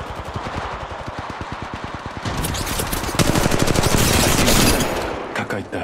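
Rapid automatic gunfire in Apex Legends, steady rhythmic bursts that grow louder and denser midway, with overlapping shots from several weapons before tapering into a few separate pops.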